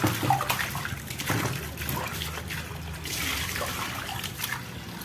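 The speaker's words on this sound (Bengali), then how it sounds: "রুই মাছগুলো ভালোভাবে ধুয়ে নিলাম।" Rohu fish being washed in water for frying: steady running and trickling water with splashes and handling noises, close and continuous.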